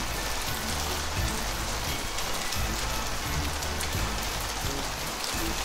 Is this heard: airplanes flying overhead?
no